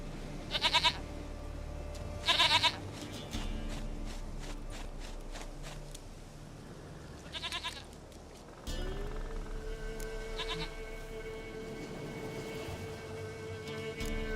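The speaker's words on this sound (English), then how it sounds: "Goat of mine, dearest, sweetest goat." Goat bleats in The Witcher 3, several short wavering calls scattered over a steady in-game ambient hum, with faint footsteps and a shift in the background bed partway through.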